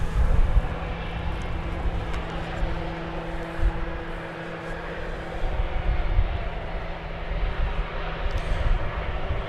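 Jet airliners at Dallas Fort Worth International Airport, a steady loud engine roar with a low droning hum, taxiing or passing near the international terminal, continuous with no talk.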